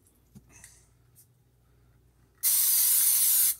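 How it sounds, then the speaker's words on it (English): Cooking spray hisses into a cooking pot in one loud, steady burst of about a second, following a quiet stretch with a few faint clicks and handling noises. "Take the spray and spray the pot."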